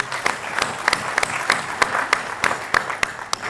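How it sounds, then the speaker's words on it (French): Audience applause at an international academic colloquium, honouring a rector who received the Palmes académiques medal; a steady patter of many hands clapping with sharp individual claps standing out, fairly close and continuous throughout. "ce qui mérite encore des applaudissements, Monsieur le recteur"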